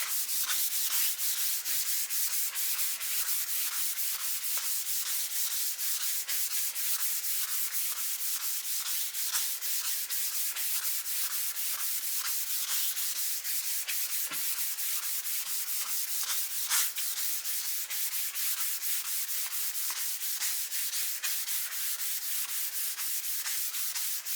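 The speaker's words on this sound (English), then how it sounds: "We're pretty much just knocking down any sanding burrs that may have been left by the previous grit." Steady, continuous rubbing of a fine sanding sponge over a guitar's wood, a soft hissy scratch with quick back-and-forth strokes, close and alone for a long stretch.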